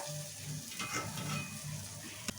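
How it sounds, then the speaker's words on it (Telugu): Okra pieces sizzle softly in a pan with cooked-down tomatoes, a quiet, close frying hiss that ends with a brief sharp clack of a utensil. "ఇప్పుడు ఇందులో బెండకాయ ముక్కలు వేసేసుకుందాం ఇంకా."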